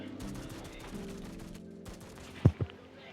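Two heavy rifle shots from the LAG 53 assault rifle in a video game ring out loud and close, spaced slightly apart. A low humming game ambience sits underneath.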